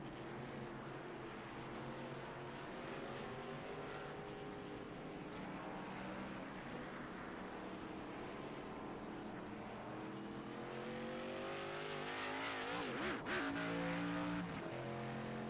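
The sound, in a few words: race cars coming down pit road at Talladega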